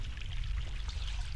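Water pours and streams steadily in the video game The Longest Journey, a continuous rushing wash with no voices over it.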